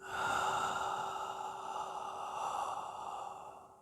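A person lets out a long, slow yawn during a hatha yoga stretch, close up and alone, with a steady breathy tone that drifts down gently over a few seconds.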